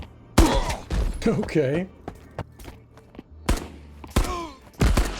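L1A1 battle rifle firing in a video game, several sharp close shots in irregular bursts separated by short gaps, with a brief word spoken between them.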